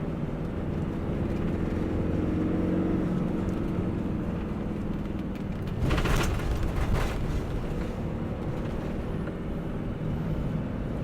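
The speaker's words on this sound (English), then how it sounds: "We're accelerating now 30, 40 mile an hour in third gear." Autosleeper Talisman motorhome on a Peugeot chassis accelerating in third gear, a loud steady engine and road drone from inside the cab, swelling briefly with a rough roar midway.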